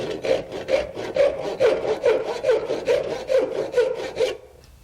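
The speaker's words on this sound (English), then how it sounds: "go ahead and saw off the dowel" A hand saw cuts through a wooden dowel during furniture repair: a close, steady run of about a dozen rasping back-and-forth strokes that stops abruptly at the end.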